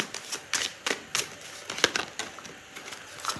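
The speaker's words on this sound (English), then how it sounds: "I'll pull out a card to answer it" Tarot cards shuffled and pulled from a deck, giving a quick run of crisp papery flicks and snaps, fairly close and alone with no talk.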